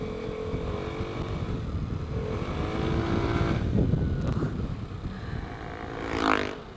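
A motorcycle with a Shijiro Standard Racing aftermarket exhaust idles with a throaty exhaust, builds into a longer rev, settles, then gives a quick sharp blip at the end.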